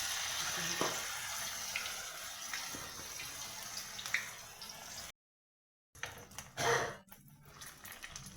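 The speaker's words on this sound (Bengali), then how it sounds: "এইভাবে করে বড়াগুলো ভেজে নিয়ে" Jute leaf fritters frying in hot oil make a steady, soft sizzle that runs for several seconds, then a short silence and some louder handling noise.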